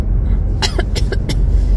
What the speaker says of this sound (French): Je tousse encore un peu avec la flotte d'hier.